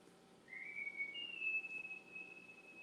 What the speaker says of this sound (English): I have someone in my house whistling.